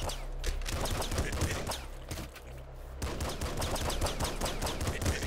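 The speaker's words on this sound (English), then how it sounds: "I was shooting into the wall because I guess the bullets were spawning a little bit ahead of me" Rapid, continuous gunfire from the video game Nuclear Throne, bullets fired into a wall in dense, crackling bursts with a steady low rumble, nearly unbroken apart from a brief lull midway.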